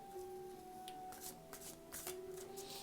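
Spirit message cards being drawn and shuffled, a soft papery riffle with scattered sharp flicks over a faint steady hum, close and fairly quiet with no talk.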